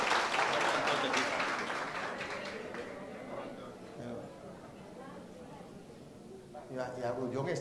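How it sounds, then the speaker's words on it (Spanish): Audience applause for the president at a Christian family movement gathering naming a new national board, dense clapping that fades over several seconds while voices chatter and a voice speaks over the end. "Un aplauso a nuestro presidente."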